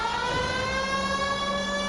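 A police car siren from the LA Noire video game wails steadily and loudly for the whole stretch, its tone holding even over a low engine rumble, with no talking.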